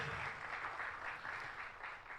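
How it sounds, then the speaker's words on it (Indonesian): Steady applause from a large church congregation, dense and continuous clapping that holds at an even level throughout. "Beri tepuk tangan yang meriah buat Tuhan Yesus."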